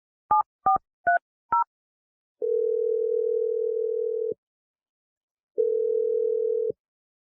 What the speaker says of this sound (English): We're gonna dial Clinton's phone number